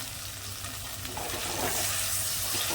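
Eggplant pieces sautéing in oil with fresh ground masala, ginger and garlic for vangi bhat, a continuous soft sizzle that grows louder as the pan is stirred, with no talking.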